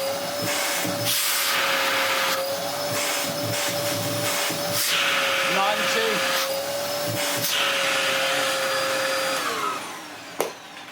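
A Dyson mini vacuum cleaner runs throughout a suction test in a steady, loud, close whine, with a faint voice briefly underneath and a sharp click near the end as the air valve releases.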